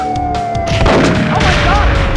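Gunfire in the Nintendo 64 shooter Perfect Dark in co-operative mode, a loud, booming burst of shots and impacts over a whining tone.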